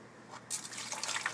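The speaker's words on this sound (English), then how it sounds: "add a little bit of water." Water is poured onto dry ice in a container, giving a soft trickle and then a fizzing, bubbling hiss as the ice sublimates, close and fairly quiet.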